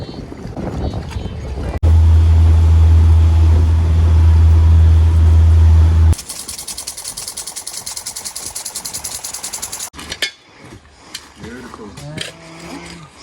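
A steady motorboat engine drones loudly for several seconds, then cuts to lighter water and wind noise with faint voices.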